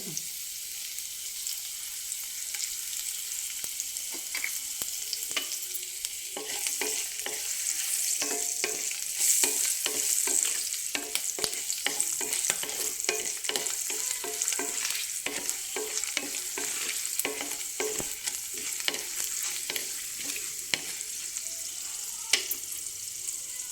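Cumin seeds and dried red chillies sizzle in hot oil for a raw banana and moong dal curry, a continuous bright crackle with frequent sharp pops and stirring clicks throughout, close and steady.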